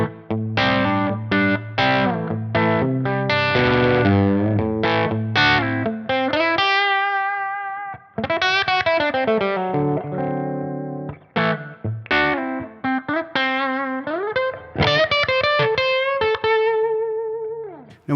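Electric guitar played through a Bogner Ecstasy Red distortion pedal at its neutral setting, captured in Tonex: loud, continuous driven riffing with sustained notes, bends and short pauses, no talking.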